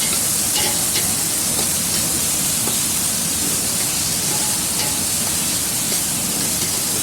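Chopped onions frying in about four tablespoons of oil in a pan for a village-style carrot and potato sabzi, giving a steady, even sizzle with no talking.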